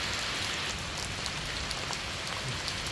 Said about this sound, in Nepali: यसरी पानी परिरहेको छ